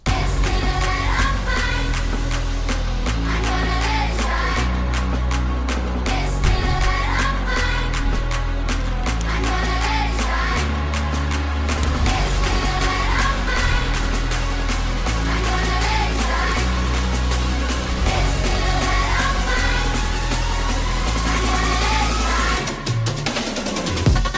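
The intro of an EDM track plays loud and continuous, with steady driving beats, a pulsing stepped bass line and dense layered synths that hold at full level, then a brief dip near the end.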